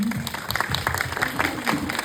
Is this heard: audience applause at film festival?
yes